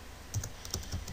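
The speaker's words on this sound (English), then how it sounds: "And do some typing and play around with it" Quiet, close keystrokes on a computer keyboard tap out in a quick, uneven run of about half a dozen clicks.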